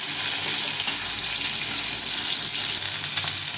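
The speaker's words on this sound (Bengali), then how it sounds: "সবগুলো মাছ ভেজে নিলাম।" Fish pieces frying in hot oil, a dense steady sizzle and crackle that fills the whole moment at close range, with no talking.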